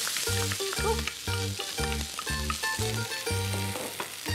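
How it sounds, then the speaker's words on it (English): Onions sautéing in a couple of tablespoons of oil in a warm pan give a steady, close sizzle across the whole stretch, with a rhythmic pulsing tone running underneath. "A couple of tablespoons of oil would be fine in a nice warm pan. And you saute these"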